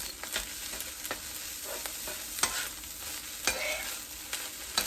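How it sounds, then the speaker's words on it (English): Rice with eggs and soy sauce being stir-fried in a pan, with a steady soft sizzle under repeated sharp scrapes and clacks of the utensil against the pan, heard up close with no talking. "That's how easy stir-fried rice is."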